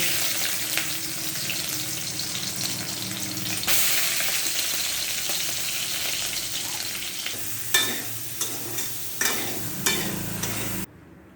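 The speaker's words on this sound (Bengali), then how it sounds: "এবার সয়াবিনগুলোকে ভেজে নেব" Soybean chunks fry in hot oil in a pan, a dense continuous sizzle that jumps louder partway through, then several sharp spatula scrapes near the end before cutting off abruptly; nobody speaks.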